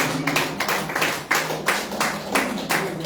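Church congregation clapping together in a steady, rhythmic beat as an offering to the Lord during a Sunday service, a room full of hands striking in unison with a slight reverberant wash.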